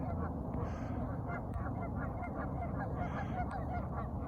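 Geese honking at a wide south pool where several pairs are settling to nest: repeated, overlapping honks, loud and close, steady throughout, with a bit of other background sound.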